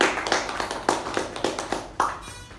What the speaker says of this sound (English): Can we have a huge round of applause for our topic master?